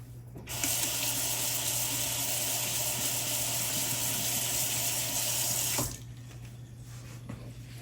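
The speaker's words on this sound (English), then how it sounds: "Wash our hands." A kitchen tap runs steadily as hands are washed. The close, full rush of water starts after a moment, holds evenly for about five seconds, then cuts off, leaving quieter room noise.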